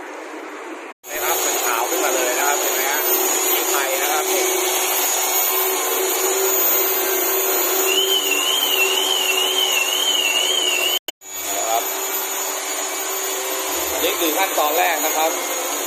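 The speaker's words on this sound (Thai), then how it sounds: "ขั้นตอนแรกคือการขัดลบรอยนะครับ" A machine polisher removes scratches from the paint of a Mercedes-Benz S300 during a ceramic coating job at a car detailing shop, giving a steady continuous whir with brief stops and some faint background talk.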